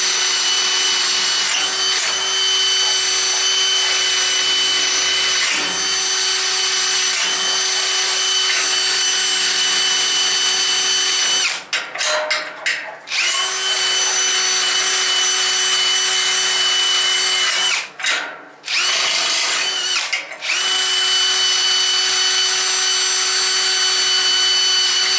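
A wire wheel in a power tool works metal parts for a Snowdog B7ZE chariot build, a loud continuous whine broken by a few short pauses where the tool lifts off and spins back up, with no speech.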